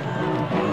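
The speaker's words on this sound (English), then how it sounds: "The crowd cheered at the testimony." An outdoor crowd at an African evangelistic gathering cheers in a loud, dense burst of voices and babble, brief and close.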